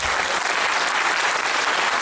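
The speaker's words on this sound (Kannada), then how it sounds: "ಸೊ ಜೋರಾದ ಚಪ್ಪಾಳೆ" Loud, sustained applause from an audience at a presentation event for an Ayurvedic hair oil company, a dense unbroken wash of clapping filling the whole stretch with no voices over it.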